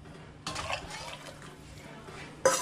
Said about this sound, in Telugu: ఇప్పుడు వేడి నీళ్ళు పోసుకుందామండి.